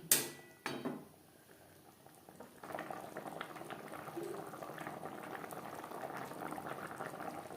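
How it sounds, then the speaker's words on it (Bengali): Fish curry gravy with vegetables bubbling in a pot: after a couple of opening knocks and clatters, a steady close burble of boiling liquid rises and continues evenly to the end, with no speech. "গ্রেভি বেশ ভালো করে ফুটতে শুরু করে দিয়েছে"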